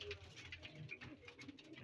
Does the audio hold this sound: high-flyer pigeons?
yes